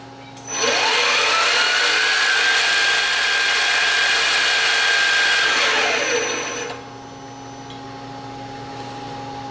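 A PM727M milling machine spindle spins up into a steady, loud, high whine, holds for several seconds, then winds down within about a second under dynamic braking, leaving a faint background hum.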